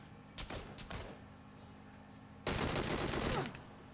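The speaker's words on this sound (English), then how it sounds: "Getting shot." Gunfire in PUBG on Xbox: a few scattered shots early on, then a loud sustained burst of rapid automatic fire lasting about a second, close and dense.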